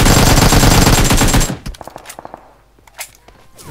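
Rapid automatic gunfire in PUBG Mobile, a loud dense burst lasting about a second and a half, followed by scattered single shots and clatter at lower level.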